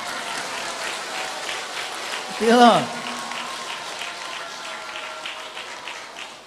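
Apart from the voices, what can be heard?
audience applause at a temple gathering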